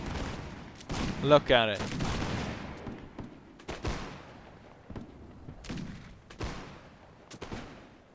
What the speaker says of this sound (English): There's so many shots getting exchanged at this point.